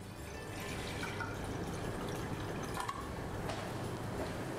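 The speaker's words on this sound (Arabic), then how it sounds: "فانا هحط لتر ميه" A liter of water is poured into a pot to boil rice. It is a steady rushing splash that runs for several seconds, heard close up with no talking.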